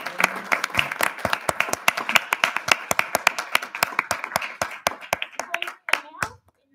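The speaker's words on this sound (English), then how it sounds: "We got to give him a round of applause." A small group clapping at a board meeting, sparse and uneven individual handclaps close to the microphone, with a voice speaking over them before the clapping stops abruptly.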